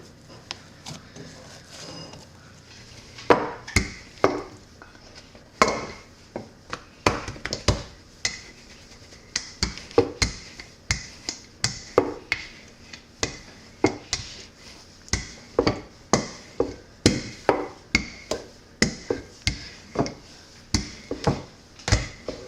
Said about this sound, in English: I'm going to knead this just a little bit more.